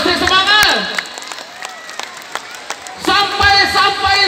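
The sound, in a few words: audience applause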